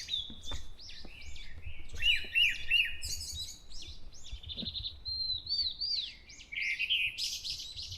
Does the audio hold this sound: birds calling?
yes